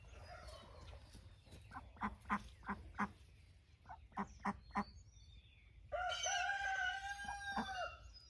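Ducks calling up close, loud and harsh with raspy, layered quacks that swell into a sustained burst near the end, after a scattering of short, sharp knocks and clucks; no one speaks.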